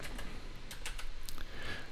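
Computer keyboard typing, a quick run of light, irregular key clicks, close and fairly soft, with no voice.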